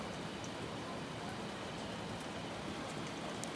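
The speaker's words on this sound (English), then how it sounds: "The rain came in quick." Steady rain pours down during a sailing trip, a continuous even hiss of drops with no pauses, fairly quiet and unbroken throughout.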